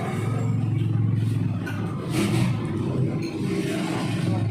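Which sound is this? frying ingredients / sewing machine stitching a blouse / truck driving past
truck driving past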